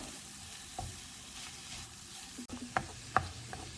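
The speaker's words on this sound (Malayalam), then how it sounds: "നമുക്കൊന്ന് മൂടി തുറന്ന് വീണ്ടും നന്നായിട്ട് ഇളക്കി യോജിപ്പിക്കാം" Drumstick leaves being stirred in a pan for a stir fry, a few soft scrapes and clinks of the spoon over a faint sizzle, fairly quiet and without talk.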